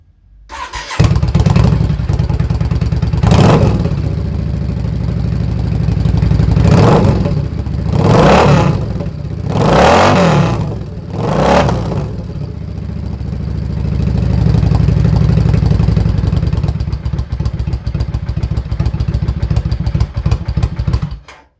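A motorcycle-style engine breathing through a freshly welded exhaust with its small leaks sealed idles loudly, then blips through several sharp revs in the middle before settling into a sustained higher drone, close and alone.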